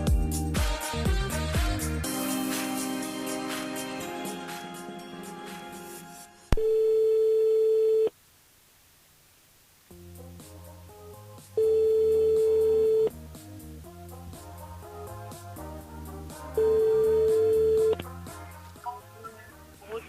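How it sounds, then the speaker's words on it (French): A telephone line rings out during a call to a radio show listener, with music fading out and then a steady tone in repeated long beeps separated by silent gaps. "On appelle Samantha"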